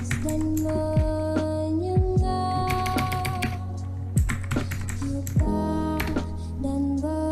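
Typing a tracert command on a computer keyboard: irregular bursts of key clicks over a steady background hum, close and fairly loud, with no talking.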